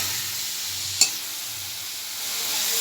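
Salt, turmeric and dry red chili sauté in a hot pan with a steady, soft sizzle and faint stirring, broken by one sharp utensil tap near the middle.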